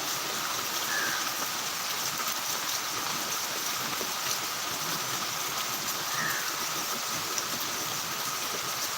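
Heavy rain falling in the Chidambaram area, a dense steady hiss of downpour on surfaces that carries on without a break and with no voices.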